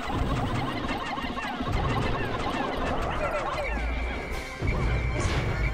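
Pikmin 2 gameplay in Challenge Mode: a spider creature crushes a swarm of Pikmin, bringing dense crashing impacts, squeals and chirps from the tiny creatures, and a sustained tone near the end, all under loud game noise.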